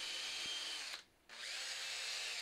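A power drill fitted with a wire brush scrubs weld spatter and scale off welded steel, a steady loud buzzing grind that cuts out briefly midway, then resumes at full strength.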